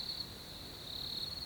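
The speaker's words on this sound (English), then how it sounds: "The crickets in the background, which was the shot where it transitions from day to night," Crickets chirp in a continuous, even high trill outdoors at night, faint and steady with no other sounds around them.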